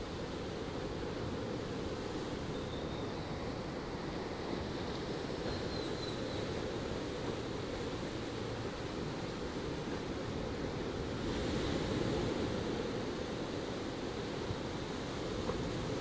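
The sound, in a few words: ocean waves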